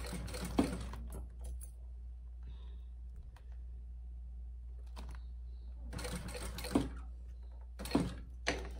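Sewing machine stitching a crystal transfer bag, giving short bursts of rapid mechanical stitching between quiet pauses under a steady low hum, close and moderately faint.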